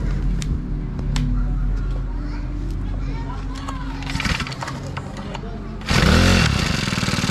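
A Honda GX35 grass cutter engine, fitted with a new carburetor, is started and runs with a buzzy two-stroke-like drone under nearby talk, becoming louder and rougher near the end.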